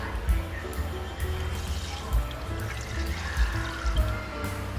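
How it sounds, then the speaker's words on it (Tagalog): Water poured onto freshly cooked sago pearls, a steady wet pouring and trickling with soft splashy bursts throughout, fairly close and moderately quiet, with no talk over it. "lalagyan natin siya ng tubig para ma-expand yung kanyang pagsasago"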